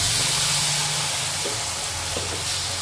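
Duck meat hits hot mustard oil with fried onions in the pan, giving a loud, steady broadband hiss and sizzle close by that fades slightly over the few seconds, with no talking.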